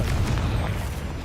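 A Confringo blasting spell explodes in Hogwarts Legacy, producing a dense, rumbling boom with crackling bursts that stay loud and steady throughout the short moment.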